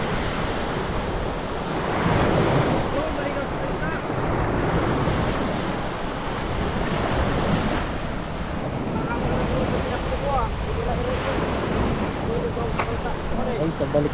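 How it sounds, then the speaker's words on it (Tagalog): Sea waves wash against a rocky shore in the Bicol region of the Philippines, with steady surf and gusty wind buffeting the microphone, continuous and fairly loud, with fishing boats nearby. "Ganda ng dagat."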